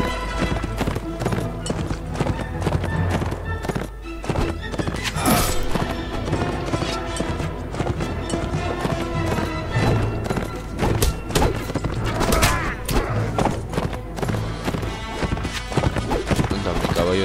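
Continuous galloping hoofbeats of an injured horse in Mount & Blade: Warband, dense and rhythmic, with thumps and scattered impacts layered over a busy game soundscape.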